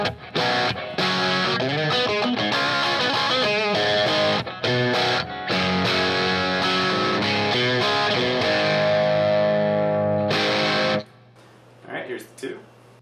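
An electric guitar with a DiMarzio Bluesbucker bridge pickup plays through a Fulltone OCD drive, loud overdriven chords and riffs with brief gaps, ending with a hum and a few quiet notes.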